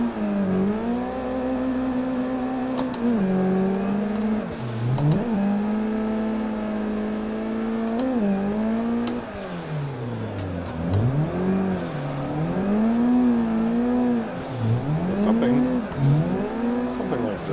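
A simulated drift car in Assetto Corsa, driven from the keyboard with the e-brake, revs hard through repeated rising and falling engine sweeps, with gear shifts and bursts of tire noise, while someone talks over it.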